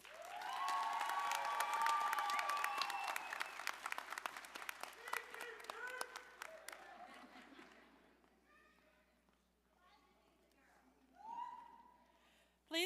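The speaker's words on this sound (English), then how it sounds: "give a round of applause for all of our valedictorian and salutatorian recipients tonight" At a college fall graduation ceremony, the audience breaks into loud applause mixed with whoops and cheers, which fades after several seconds into scattered voices and laughter, with a last short swell of cheering near the end.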